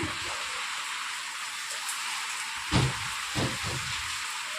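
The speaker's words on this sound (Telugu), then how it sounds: "ఉరుములు మెరుపులు అలాగే ఫుల్ వర్షం పడుతుంది" Steady heavy rain hisses throughout, with a couple of low rumbling thumps that suggest distant thunder.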